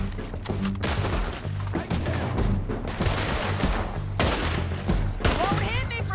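Dense chaotic gunfire in the video game Red Dead Redemption 2, overlapping shots and impacts in a continuous loud barrage, with shouting voices mixed in.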